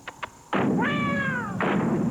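A single drawn-out cat meow, loud and close, rising then falling, preceded by two faint soft knocks, set amid news-satire talk about a war front.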